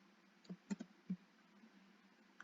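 Typing on a computer keyboard, a few quiet, sparse key clicks in a short irregular run, close but faint against a low background hiss.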